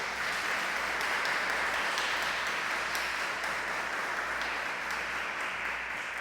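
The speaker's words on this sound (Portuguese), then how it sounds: "Dê uma salva de palmas para Ele." A church congregation gives a round of applause, an even, sustained wash of many hands clapping, heard from some distance without much variation.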